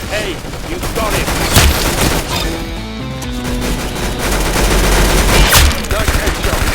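Video game gunfire in a shooter, loud rapid bursts and sustained volleys crackling close up, with heavy booming hits and dense battle noise filling the whole stretch.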